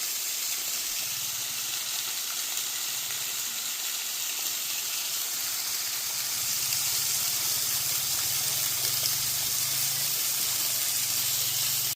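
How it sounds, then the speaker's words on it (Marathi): Steady rushing water flowing into a well, with a constant hiss, continuous and unbroken throughout, slightly louder in the second half, with no voices. "वाड्यातलं हे येणारं पाणी चोवीस तास अखंड इथे येत राहील"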